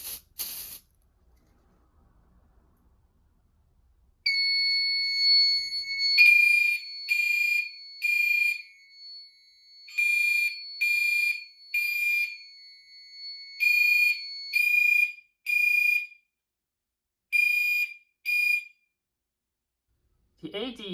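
A Fire-Lite MS-9600UDLS fire alarm system sounds its horns after a detector is set off, giving loud repeated buzzing blasts in short pulsed groups with brief gaps between them, alone with no talk.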